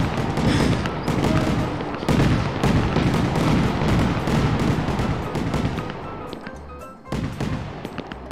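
Dense, continuous crackling and booming bursts of fireworks in a fireworks simulator video game, loud and chaotic with overlapping blasts, easing slightly toward the end.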